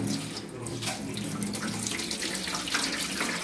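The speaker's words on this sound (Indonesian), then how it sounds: "bumbunya kita cuci dulu ya biar bersih" Tap water runs and splashes as spices are rinsed clean under it in a home kitchen sink, a steady close spray with small shifting splashes throughout.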